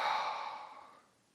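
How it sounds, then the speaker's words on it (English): One deep exhalation, a soft, close breathy rush that is strongest at the start and fades away over about a second. "take a deep breath in"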